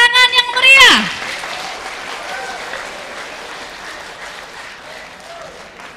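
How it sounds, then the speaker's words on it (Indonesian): Supporters of the mayoral and vice-mayoral candidates at a 2018 public debate in Prabumulih break into loud applause with cheers and a brief whistle, then the clapping settles into a steady, more distant patter for several seconds. "Untuk para pendukung paslon, tepuk tangan yang meriah"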